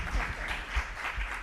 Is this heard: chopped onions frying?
no